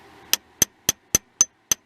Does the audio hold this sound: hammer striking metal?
yes